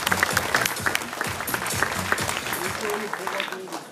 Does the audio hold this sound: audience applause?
yes